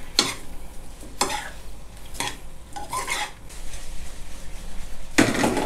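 Spring onion stems being tossed with salted egg sauce in a wok, the stirring spatula clanking and scraping against the pan in repeated strokes over a low, steady sizzle, close and fairly loud.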